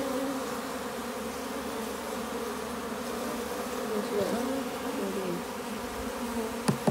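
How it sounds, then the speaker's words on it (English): A dense, steady buzz of many honey bees close by in a hive during a nuc-to-hive transfer, droning continuously with slight wavering in pitch and a faint click near the end. "Still quite a lot of bees in here, as you can see."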